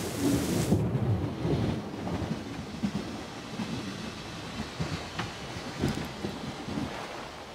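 Thunderstorm rumbling in the game Syberia: The World Before, a loud deep roll of thunder opening the scene and then easing into a steady low growl with scattered cracks and a rain-like wash throughout, no voices.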